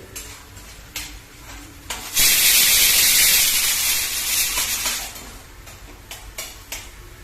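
A pressure cooker cooking pav bhaji vegetables: a sudden loud steam hiss bursts out and runs for about three seconds before fading, with clicking kitchen sounds and light clatter before and after.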